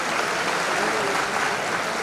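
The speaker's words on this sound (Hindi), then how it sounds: "तालियों की करतल ध्वनि से अभिनंदन करें।" Steady, dense applause from an audience at a charitable trust's student award ceremony in Udaipur, a continuous wash of clapping throughout.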